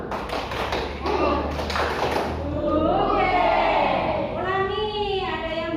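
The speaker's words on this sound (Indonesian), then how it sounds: "Coba tepuk semangat dulu." Children in an Islamic primary school class perform a rhythmic clap chant, a burst of quick claps and taps mixed with young voices calling out together, close and fairly loud.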